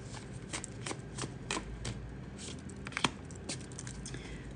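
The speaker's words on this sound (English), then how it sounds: "Y'all watch me shuffle, yeah?" Tarot cards shuffled by hand during a zodiac reading, a steady run of crisp riffling snaps and soft flicks close to the listener, with no talking over it.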